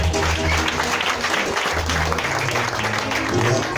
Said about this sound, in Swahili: Pigia Bwana Yesu makofi jamani.